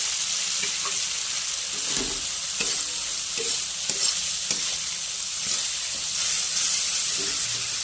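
Two green chillies frying in hot spiced oil with red chilli powder hiss and sizzle steadily up close, broken by regular scraping stirs of a spoon against the pan, with no one speaking.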